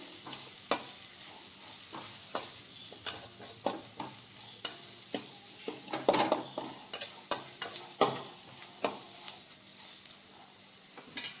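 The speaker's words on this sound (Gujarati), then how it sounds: "એક ચમચી ચણાનો લોટ ઉમેરવાનો છે અને તને સરસ રીતે સાતળી લેવાનું છે" Gram flour sautéing in oil for stuffed bitter gourd curry, a steady close sizzle under constant scraping stirs and frequent clicks of a spoon against the pan, with no talk.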